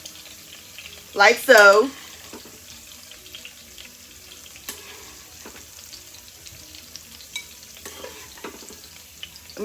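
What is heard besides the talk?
sautéed vegetables being scooped out of a pot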